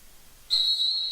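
A referee's whistle at a high school wrestling match gives one sharp, sustained shrill blast that starts abruptly after a quiet moment and holds steady and loud to the end.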